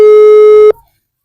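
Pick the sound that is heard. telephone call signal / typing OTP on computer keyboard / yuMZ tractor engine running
telephone call signal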